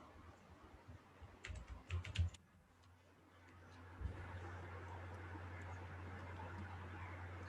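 Code is typed on a computer keyboard, a short quick burst of clicking keystrokes that then gives way to a quiet, steady room hum.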